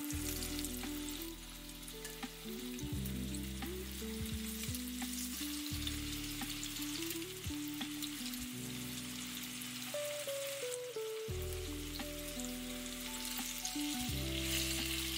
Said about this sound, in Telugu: చలో ఇప్పుడు పాన్ ఫ్రై చేద్దాం. ఓకే, ఓకే ప్యాన్లో ఆయిల్ వేసానండి,